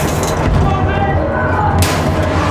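A field gun fires in the Battlefield 1 war game, a dense, loud boom rolling under a constant roar of battle noise, with shouting voices over it.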